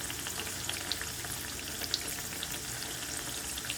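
Potato chips fry in oil in a pan over a low flame, giving an even, moderate bubbling sizzle with occasional small pops, heard alone without speech.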